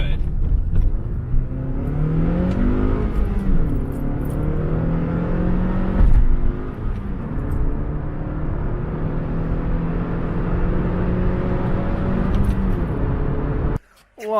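A rebuilt car with a manual clutch runs while driving, engine droning steadily with pitch rising and falling through gear changes, heard from inside the cabin, with talk over it and a sharp cut near the end.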